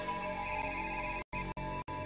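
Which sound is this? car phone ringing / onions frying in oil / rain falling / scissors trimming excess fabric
car phone ringing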